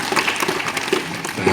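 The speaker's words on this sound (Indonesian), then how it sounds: "Tepuk tangan dulu buat Oki." Applause for a child named Oki at a children's storytelling show with a puppet, a dense, steady patter of clapping hands from a small audience throughout.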